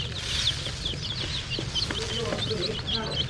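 Backyard chickens cluck and chirp in short, bright calls scattered over a low, rumbling background, fairly close and moderately loud.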